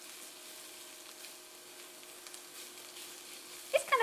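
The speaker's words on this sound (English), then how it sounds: "just going to mix it all in there and then just let it cook" Carrots stirred into a pot of cooking food give a faint, steady sizzle with a low hum underneath, ending in a few small clatters of the spoon against the pot.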